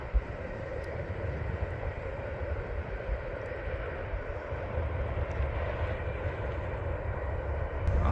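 Norfolk Southern coal train heading southbound, cars rumbling past in a continuous heavy drone that builds slightly toward the end, with no voices.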